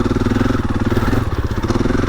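A Husqvarna FE 501 four-stroke dirt bike on a technical trail, its big single-cylinder engine thumping loud and close in a steady, slightly uneven pulsing rhythm throughout.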